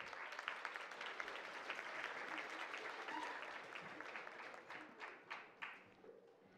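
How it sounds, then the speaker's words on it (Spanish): Sustained audience applause fills a regional oratory awards ceremony in Los Santos province, a dense wash of clapping from a crowd that thins into a few scattered claps near the end. "Fuerte el aplauso."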